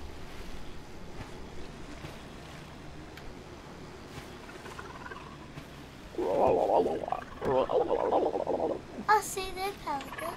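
A giant boat rises out of the water in the video game Submerged, with steady wind and water ambience swelling into a louder rushing, churning stretch midway before settling again.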